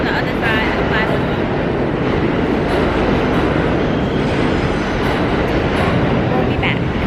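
A subway train rolls into an underground platform station in New York, a loud continuous rumble and rail roar filling the space, with a brief higher squeal partway through.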